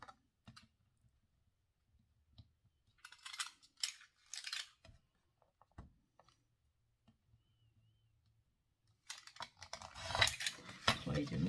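Utility knife drawn along a ruler, cutting four sides of a piece: sparse scraping strokes and clicks with quiet gaps, growing louder and more continuous toward the end.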